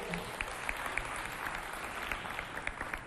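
Audience applause for a national TV channel director at a youth cultural-centre event, steady dense clapping throughout at moderate level with no voices over it.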